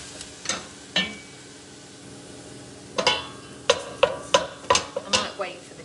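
Clattering and stirring in a pan while meat browns for a Cumberland pie, with sharp utensil scrapes and knocks, scattered at first then in a quick cluster, over a faint sizzle.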